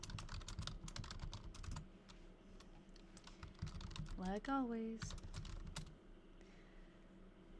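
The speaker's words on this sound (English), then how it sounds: "I'm just typing the diary on Google Docs." Typing on a computer keyboard into a Google Docs document, rapid irregular clicks that clatter in bursts, close and fairly quiet, with a short spoken phrase partway through.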